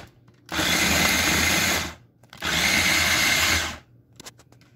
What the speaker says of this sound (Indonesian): Now we have to blender it, okay? So kita harus blender the paprika